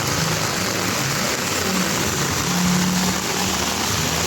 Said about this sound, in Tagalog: Ayan na ang napakalakas na ulan.